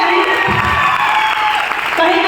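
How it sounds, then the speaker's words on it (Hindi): Audience applause and crowd noise fill a hall at a Smart Value Ltd corporate gathering in Varanasi, loud and steady throughout with cheering mixed in. "एक बार चाहेंगे उनके लिए भी जोरदार तालियां"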